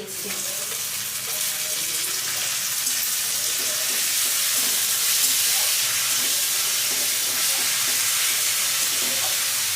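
Onion paste sizzles steadily in a hot pan for green chicken, a dense, continuous frying hiss with faint stirring, close and even throughout with no talk.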